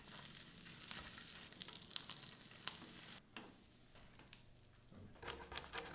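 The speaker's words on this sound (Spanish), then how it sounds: "en la misma grasita de la carne se le da una revolcada al pan y se va a tostar" Bread toasting in leftover fat from adobo-marinated smoked pork, pressed down under a frying pan: a quiet, steady sizzle and crackle with scattered pops, briefly dipping midway before flaring up again near the end.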